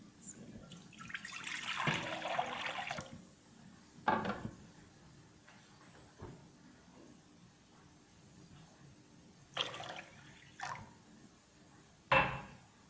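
Water is poured into a pan on a stovetop for Knorr masala noodles, a close splashing pour lasting a few seconds, followed by scattered clinks and knocks of kitchenware.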